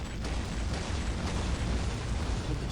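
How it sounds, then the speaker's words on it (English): A loud, sustained roar of an explosion during a crash-landing emergency aboard a passenger aircraft, a dense rumbling blast with heavy low end that fills the whole stretch without letting up. "It's an explosion."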